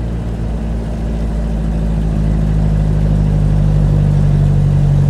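A 1940 Rosengart LR539 Supertraction with a 2-litre engine pulls up a steep hill in third gear, a steady loud mid-pitched engine drone with a constant hum, close and without talk.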